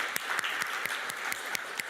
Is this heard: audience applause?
yes